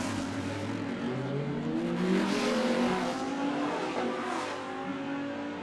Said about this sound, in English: How good does the V8 sound as it angrily climbs Monkey Hill, navigating all of the bumps.